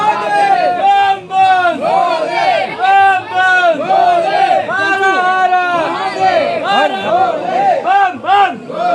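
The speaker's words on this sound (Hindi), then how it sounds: "इतनी ज़्यादा भीड़ है गाइस, देखिए हमसे पीछे भी लोग खड़े हैं।" Dense crowd of pilgrims packed together at the Kedarnath temple, a loud continuous babble of many voices and shouts close around, with someone talking over the din throughout.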